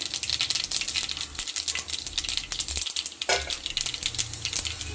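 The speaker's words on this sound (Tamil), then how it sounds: "எண்ணெய் கடுகு போட்டாச்சு" Mustard seeds sizzle and pop in hot oil at the start of a bitter gourd poriyal, a loud dense crackle of rapid popping up close with a few clattering bursts, and no speech.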